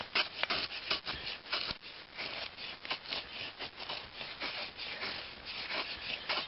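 A boy's axe blade shaves curls off a piece of wood in a run of quiet, close, rasping scrapes, repeated stroke after stroke without a break.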